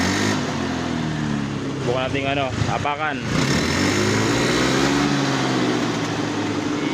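A Honda Beat scooter engine runs loud and close after a rough-idling fault was fixed, with a steady drone and a couple of quick revs near the middle, while a person talks over it.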